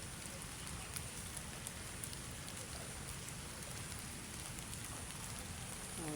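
Heavy rain pours down in a steady, dense hiss that stays at an even, loud level throughout, with no voices.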